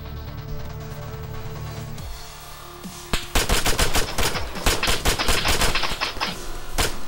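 Gunfire in the military shooter game Arma 3, starting with a lone sharp shot, then a dense burst of rapid automatic fire and scattered single cracks, loud and close.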